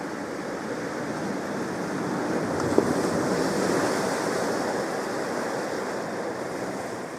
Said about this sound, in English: the ocean keeps going,